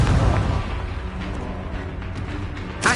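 Confringo blasting spell explosion in Hogwarts Legacy, a loud broadband blast at the start with rumbling energy trailing off, then a second sharp burst at the very end, all over a continuous game soundscape.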